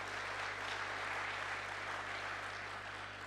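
A large audience at a peace convention's closing plenary applauds the launch of the Asia-Pacific Peace Service Alliance, producing continuous, uniform clapping under a low steady hum, without talk.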